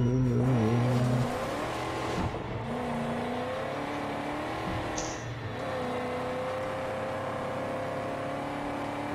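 Car driving in the video game Mad Max, an engine revving hard with rising and falling tones as it shifts and accelerates, loud and continuous, with brief scraping and skidding noises along the way.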